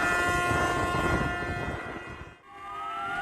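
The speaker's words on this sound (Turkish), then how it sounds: "Kastamonu İnebolu Limanı'ndaki balıkçı teknelerinde de sirenler Atatürk için çaldı." Sirens on fishing boats in İnebolu harbor, Kastamonu, sound together in memory of Atatürk: several steady, sustained horn tones layered loudly, briefly dipping near the end before resuming with a slowly rising tone, with no voices.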